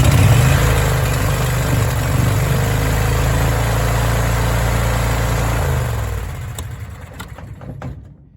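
A Miller Bobcat 225 welder generator with a replacement UTV engine runs after a dose of starter fluid, a loud steady close-up drone that holds for several seconds before fading and sputtering down.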